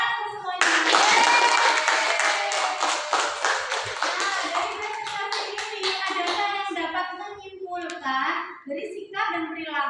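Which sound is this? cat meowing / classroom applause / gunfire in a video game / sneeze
classroom applause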